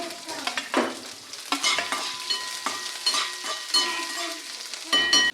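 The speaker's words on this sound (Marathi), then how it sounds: "पॅनमध्ये थोडंसं तेल राई जिरं यांचा तडका मारून घेतला आहे मिरच्या लसूण" Mustard seeds, cumin, chillies and garlic sizzle in hot oil in a pan, with sharp crackles and pops and a spoon scraping now and then, loud and close with no voices.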